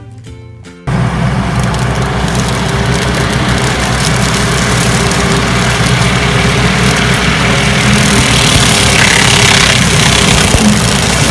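A skid steer loader's engine starts abruptly and runs loud and steady nearby, with a weed eater attachment mounted on the front, its deep continuous rumble and whirring filling the rest of the clip.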